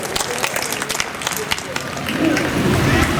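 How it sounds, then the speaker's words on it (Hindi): An audience at a stage event breaks into applause, a dense rush of clapping that swells louder toward the end amid crowd murmur. "एक बार मंच के लिए जोरदार ताली।"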